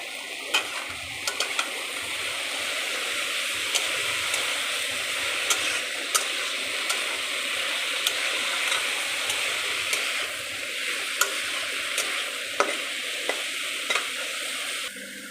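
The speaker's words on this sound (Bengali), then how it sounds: "এবারে এটাকে ভালো করে ভেজে নেব" Steady, close sizzling of taro and chickpeas frying in a pan, with occasional stirring scrapes and soft crackles running throughout without any talking.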